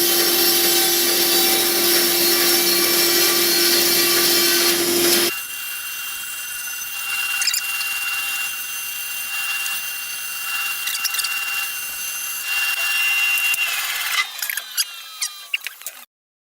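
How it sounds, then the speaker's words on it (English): A bandsaw trims wooden boards for a split-top Roubo workbench top, its motor humming steadily before the blade cuts with a rasping whine, then the machine winds down and stops. "here we're again at the bandsaw, trimming more bits off before we get close to the final dimensions"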